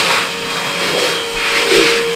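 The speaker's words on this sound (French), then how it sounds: "Nadim, tu vas passer l'aspirateur, mec." A vacuum cleaner runs steadily indoors while a room is cleared for a new setup, its loud broadband whine holding constant with a faint tonal hum throughout.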